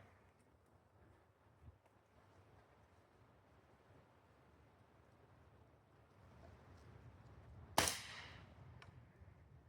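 A single sharp pellet gun shot rings out once near the end, aimed at a can outdoors, loud and close over a low rumbling background.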